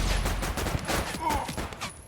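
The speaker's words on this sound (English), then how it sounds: "Somebody's shooting at me." Enemy gunfire in the game Project Silverfish, rapid close bursts of shots cracking in an uneven stream over a rumbling background, with no speech.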